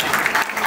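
A brief burst of clapping from guests at a child's fifth birthday celebration, close and steady with a few soft pulses, no voices over it.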